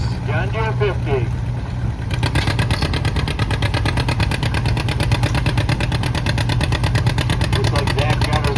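A John Deere 50 antique tractor at a 5,000-pound class pull at a county antique equipment show throbs with a steady, rapid, loud engine beat throughout, while a voice talks briefly at the start.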